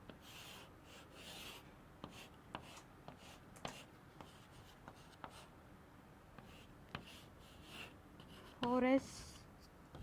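Pen or marker writing on a board or tablet during a chemistry lesson on coordination compounds, producing faint scattered scratchy strokes beneath quiet speech.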